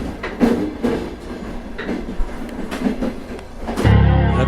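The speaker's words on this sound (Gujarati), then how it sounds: "દૂરથી ટ્રેનનો અવાજ આવે છે, પણ ટ્રેન દેખાતી નથી, માત્ર અવાજ." A train rumbles toward a railway platform, its rhythmic clickety-clack and rolling rumble building steadily and swelling into a louder, denser roar at the end.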